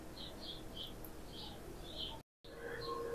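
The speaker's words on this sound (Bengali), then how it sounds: "পাখির ডাক শুনতে পাচ্ছেন" Birds call from trees behind a house, short chirps repeating at a steady pace over soft background music, with a brief dropout near the end.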